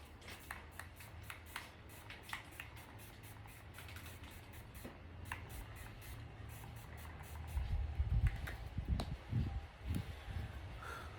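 Makeup setting spray is misted onto a face in several quick short bursts, faint and close, followed by rustling and soft handling noises toward the end.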